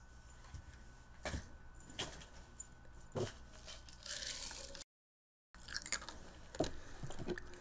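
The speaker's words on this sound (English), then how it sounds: "Crunching out some ice." Ice cubes crunched between the teeth close to the mic, a few irregular crisp bites and grinding chews separated by short pauses, with faint background hum.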